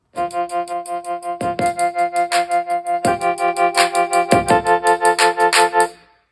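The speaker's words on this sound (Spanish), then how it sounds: "para escuchar el outro de la música de mis videos en la bocinita" Upbeat electronic music with a steady pulsing beat plays through a small, cheap Bluetooth speaker, fairly loud and bright, ending abruptly after about six seconds.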